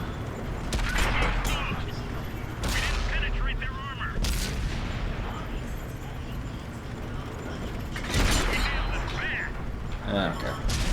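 Tank cannon fire from a KV-5 in World of Tanks, several loud sharp blasts spaced a few seconds apart with decaying tails, mixed under steady game noise and a voice talking.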